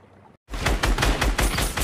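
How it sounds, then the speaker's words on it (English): Rapid bursts of video game gunfire from a Fortnite match at Holly Hedges, a dense run of loud shots and volleys firing in quick succession after a brief silence, with no voices. "you're just shooting around at the other people"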